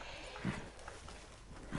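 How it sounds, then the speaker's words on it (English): Horse hooves pound along in a PS4 video game, a few soft, irregular hoofbeats set under a constant hiss of background noise. "My horse just keeps on going."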